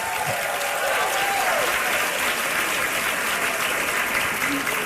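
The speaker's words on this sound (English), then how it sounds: "Give them another round of applause." Sustained audience applause at a women's health expo, steady and full from many hands, lasting several seconds at an even level.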